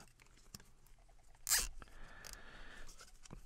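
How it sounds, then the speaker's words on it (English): Zip ties cinched tight around a small piece of PVC pipe, giving one quick, close ratcheting zip partway through in an otherwise quiet room. "throw a couple zip ties on here."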